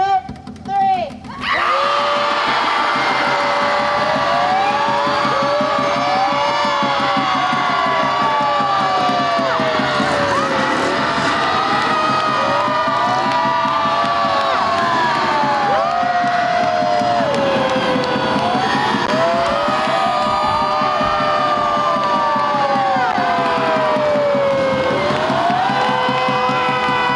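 A large protest crowd screams loudly and continuously outdoors, with overlapping shouts, whoops and rising and falling yells, while traffic rumbles underneath.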